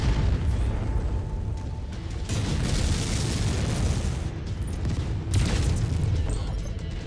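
A Jaeger mech blows up in MechWarrior 5 Mercenaries, a loud, sustained rumbling explosion with dense crackling bursts that swell again near the end, heard close and without speech.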